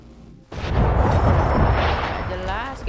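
Cannon fire in Assassin's Creed III Remastered erupts as a loud, sustained booming blast with rumbling debris, close and dominant, while a player's voice speaks faintly.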